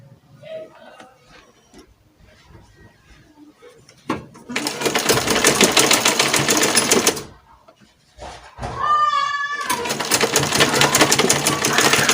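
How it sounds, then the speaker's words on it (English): Electric sewing machine stitching fabric and elastic for a fitted pencil skirt, with loud sustained whirring runs broken by a brief stop, and a voice talking quietly before the first run. "make sure as you're stitching that you stitch both the fabric and the elastic"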